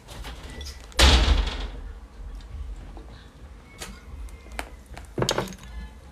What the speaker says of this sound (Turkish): Kapıyı kapatır mısın?